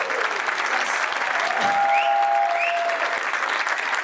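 Steady applause from a crowd at a military band gala charity concert, dense clapping throughout with a faint whistle-like tone briefly rising above it.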